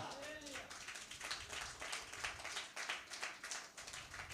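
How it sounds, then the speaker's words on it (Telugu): A church congregation claps together in a rhythmic, fairly faint wave of handclaps, with a voice speaking over it at the start. "గట్టి చప్పట్లు కొడదామా?"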